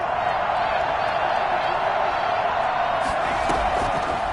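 A dense, steady roar of a home stadium crowd during an American football game rises and swells with scattered shouts and cheers, distant and continuous beneath a commentator talking.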